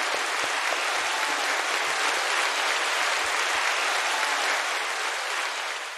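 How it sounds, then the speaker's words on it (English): A student audience claps loudly and continuously for a guest, a thick, even roar of applause filling the full few seconds before tapering slightly at the end. "Can we give another big round of applause for Miss Layla?"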